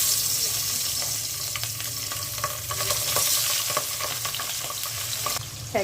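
Spiced fish, rubbed with chilli powder, turmeric and salt, frying in a pan, giving a steady close sizzle with scattered crackles and stirring scrapes throughout, with no voices.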